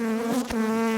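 Angry honey bees buzz right against the microphone, a loud close drone with a strong steady pitch and a brief wingbeat flutter midway.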